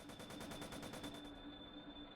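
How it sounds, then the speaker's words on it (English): Machine gun fire in the video game Planetarian, a rapid, even burst of shots with a steady tone running beneath, heard quietly and cutting off after about a second. "The gunfire resumed once again."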